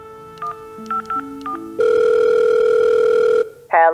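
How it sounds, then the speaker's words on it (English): A telephone in an audio drama dials a short series of tones, then a long, loud ring tone sounds, and a final brief higher chime follows. "He calls his Aunt May."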